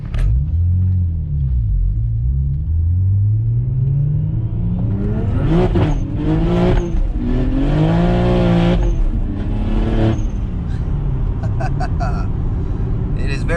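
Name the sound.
600 hp single-turbo BMW 335i accelerating through the gears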